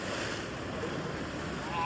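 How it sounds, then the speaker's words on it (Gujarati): Sea waves at Gomti Ghat in Dwarka wash in a steady, broad roar mixed with wind buffeting the microphone, fairly soft and continuous. "દરિયાના મોજા મિત્રો"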